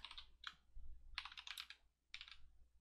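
Computer keyboard typed on in short bursts of rapid clicky keystrokes with brief pauses between, close and quiet while entering a Minecraft command, with no voices.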